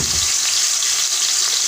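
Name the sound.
frying tomatoes and onions in hot oil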